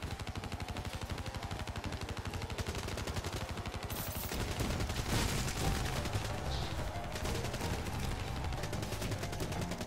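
Rapid gunfire in the arcade-style video game Call of Duty Dead Ops Arcade, with dense rapid bursts that build in loudness midway and continue steadily, along with game effects.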